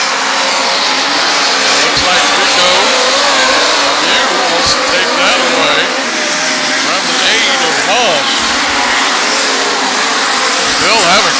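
Midget race cars in a Power I event at Valley Speedway roar continuously as a pack at close range, engines rising and falling through corners, with a commentator talking over the racing throughout.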